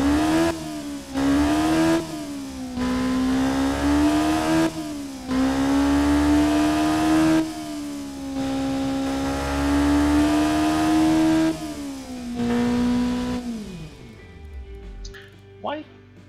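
A video game inline-4 engine revs hard toward 10,000 RPM in repeated loud, close surges, each rising whine cut by a brief dip, before the sound winds down and falls silent near the end.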